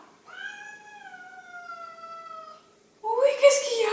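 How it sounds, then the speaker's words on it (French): A house cat gives a long, drawn-out meow close by, followed by a louder, shorter cry at the end. "Oui mon chat!"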